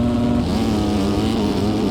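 Several motocross bike engines in the MX Bikes video game drone and rev together at an arenacross race start, a loud, continuous buzz with a steady pitch that wavers slightly.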